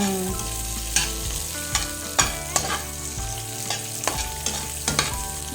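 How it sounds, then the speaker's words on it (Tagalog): Onions mixed with tomato frying in a hot pan for Filipino-style fish steak, with a steady sizzle broken by repeated stirring scrapes and knocks of a utensil against the pan. "ngayon po ilagay na natin yung sibuyas"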